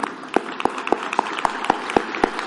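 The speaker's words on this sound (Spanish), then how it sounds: "Un aplauso." Congregation in a church service applauding new members, a short burst of scattered hand claps with a few distinct sharp slaps standing out in a steady, modest rhythm.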